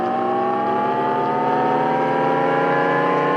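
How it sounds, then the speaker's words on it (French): Artificial engine sound for a Jaguar electric car played back, a loud, smooth synthetic whir that rises steadily in pitch as if accelerating, with no talk over it. "les voitures Jaguar, ils ont révélé le bruit qu'ils allaient faire"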